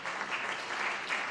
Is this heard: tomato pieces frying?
no